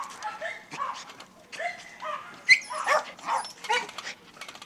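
Fearful, under-socialized dogs at a behavioral rehabilitation center bark, yip and whimper in short irregular bursts, fairly close, with some voice-like sounds mixed in.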